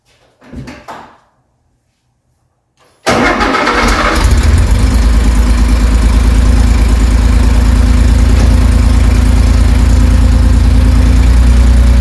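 A Porsche 911T engine, freshly installed and warm, starts up after a brief quiet moment and settles into a loud, steady idle close by.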